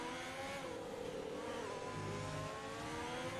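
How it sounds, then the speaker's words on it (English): Ferrari Formula One engine in a Belgian Grand Prix racing game, a steady high-pitched whine and rising rev held throughout, loud and continuous with no talk. "You can hear the whine of that Ferrari engine."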